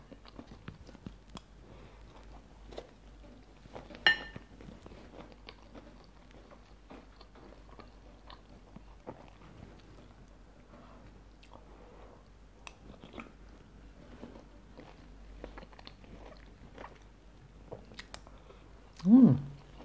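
Crunchy mixed vegetables from a spicy Thai sour curry are chewed close up in soft, steady bites, with one louder crunch near the start and another at the end.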